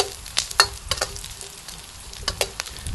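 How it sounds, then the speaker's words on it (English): Garlic and Chinese sausage fry in a pan under a constant sizzle, while a utensil stirs and scrapes in quick clatters, close and fairly loud, with no talking. "and put in the garlic and sausage. Give it a stir."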